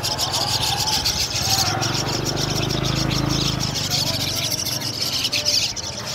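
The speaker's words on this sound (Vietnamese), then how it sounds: "Một lồng chim sáo các bạn ạ, rất là nhiều chim sáo luôn." Many myna birds in a crowded cage at a market stall calling together, a dense continuous chatter of chirps and squawks with people talking underneath.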